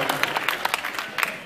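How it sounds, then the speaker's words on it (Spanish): Audience applause for a band at a rock concert, a steady wash of many clapping hands with sharper individual claps standing out, heard close and moderately loud under crowd noise and voices. "¡Un aplauso para la banda!"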